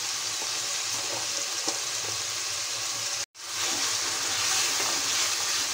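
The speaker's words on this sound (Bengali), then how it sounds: "নেড়ে নেব।" Drumstick (moringa) curry being stirred with salt and turmeric in a frying pan, a steady loud sizzle with faint scraping and a brief break partway through.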